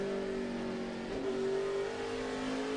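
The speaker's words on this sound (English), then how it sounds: "Let's see how fast these guys are bailing off into turn 1, Larry." NASCAR race cars at the 2008 Crown Royal Presents the Dan Lowry 400 roar steadily into turn 1, a loud sustained engine drone with a slight pitch swell near the middle as cars speed past.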